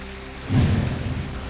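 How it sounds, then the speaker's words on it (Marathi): Heavy monsoon rain falls steadily in a broad hiss, with a low rumbling swell partway through, during a rainy spell over Marathi farmland and towns. "जोरदार पावसाची हजेरी"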